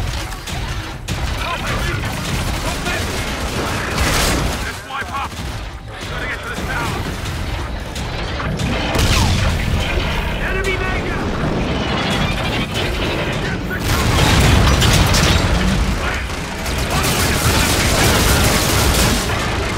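Rapid gunfire, mechanical clatter and booming explosions fill a Call of Duty: Infinite Warfare firefight, dense and loud with almost no break, growing even heavier toward the end.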